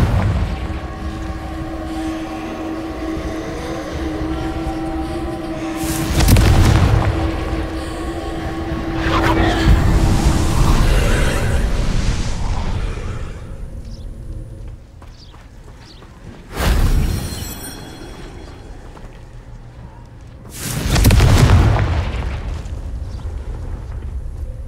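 Confringo fireball spell blasts in Hogwarts Legacy, three heavy booming explosions spaced apart, each a sharp loud burst with rumbling decay, over a droning background with brief whooshing swells between.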